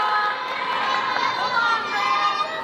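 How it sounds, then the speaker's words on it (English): Crowd cheering and shouting at a Polynesian dance contest, a dense, steady roar of voices that fills the whole stretch, loud and close, with excited whoops rising through it. "One more time, big round of applause for those 3 ladies."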